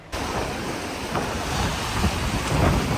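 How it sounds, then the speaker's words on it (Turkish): Rough, choppy sea surf washes steadily onto a beach at a summer resort town, a continuous broadband roar of waves mixed with gusty wind buffeting the microphone, with no voices. "Deniz çok dalgalı ama özellikle burayı tercih ediyoruz."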